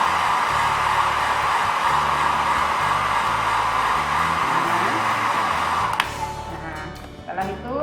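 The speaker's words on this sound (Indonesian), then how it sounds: "kita bisa menggunakan hair dryer." A hair dryer blows air to dry a Gram-stained microscope slide, a loud steady whooshing roar that cuts off near the end, with a voice speaking over it.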